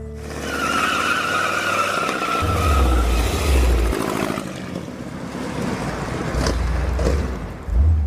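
1968 Dodge Charger rat rod running with its hood off and not running happily: a loud, continuous rough roar with rushing, hissing noise that swells and dips, heard close with no talk.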